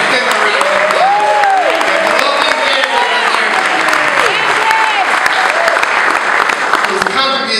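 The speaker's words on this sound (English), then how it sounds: "Let's give her a round of applause." An audience at an LGBT history event applauds loudly and continuously, with dense clapping and scattered whoops and voices rising through the crowd.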